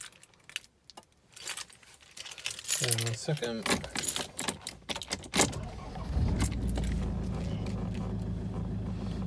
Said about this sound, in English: I'll just start the car for a minute.